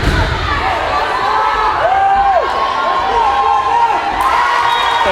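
Putnam home fans cheer and shout at a high school volleyball match against Central, a loud, sustained crowd roar with rising whoops and occasional thuds throughout.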